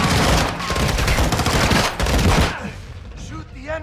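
Rapid automatic gunfire in Call of Duty Modern Warfare 2 Remastered during a prison break mission, dense loud bursts of shots that thin out after a couple of seconds, with a voice briefly heard in the background.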